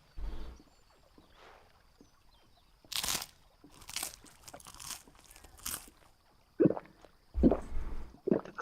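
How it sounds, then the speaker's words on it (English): Crunchy bites and a soft gulp from game characters eating bread and drinking wine at a tavern in Final Fantasy XVI, coming as several separate close bursts with quiet gaps between them. "The swallowing noise."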